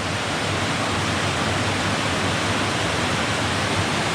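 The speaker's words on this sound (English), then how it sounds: "Wow, look at the creek." Creek rushing down a cold hollow beside a hiking trail among waterfalls, a constant broadband wash of flowing water, steady and fairly loud with no voices.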